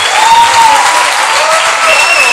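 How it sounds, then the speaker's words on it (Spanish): A church congregation rises and applauds loudly in sustained, dense clapping that fills the space from start to finish, with whistles or cheers rising above it. "nos pongamos de pie y con un fuerte aplauso de honra recibamos a Joaquín Yebra"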